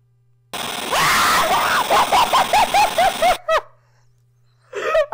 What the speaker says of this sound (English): Oh no, it's the infamous scream.